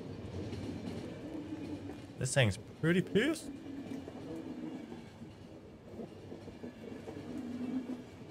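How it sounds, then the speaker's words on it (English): A moving train in The Final Station game rumbles steadily with a continuous low rolling drone beneath a person talking, with a few sharper bursts near the middle. "Gotta keep the train moving."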